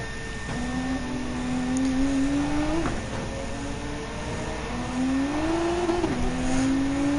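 A race car engine in Gran Turismo 7 screams up through the revs to an over-rev, drops with a shift, then climbs high again in a steady, fairly distant in-game engine whine.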